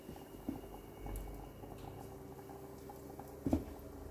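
Chicken fries in hot oil in a pan, giving a faint, steady bubbling patter with a couple of soft pops, with no talking.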